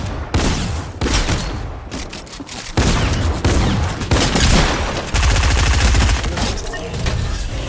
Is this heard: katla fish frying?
no